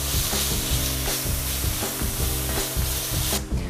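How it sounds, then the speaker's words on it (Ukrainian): Meat browning in a pan gives off a loud, steady sizzle and spatter with regular scraping stir strokes. It runs unbroken for the length of the sound, with no one speaking. "Поки підсмажується м'ясо, ми підготуємо цибулю"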